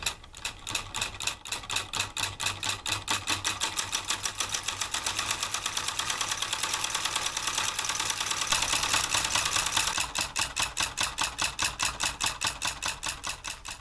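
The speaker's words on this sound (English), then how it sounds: "my solenoid motor really rocks" Homemade walking beam solenoid electric motor running steadily, a fast regular clicking and buzzing beat with a constant hum underneath, close and even throughout.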